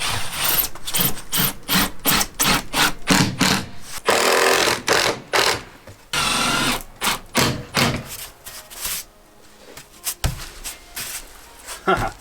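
A power drill drives 6-inch screws through rigid foam board on a garden shed exterior, loud close bursts of whirring and grinding in quick repeated pulses, easing to sparser, quieter bursts near the end.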